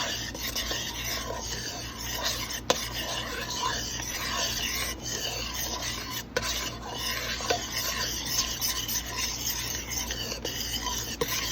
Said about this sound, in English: Then we'll stir it around, see how it looks.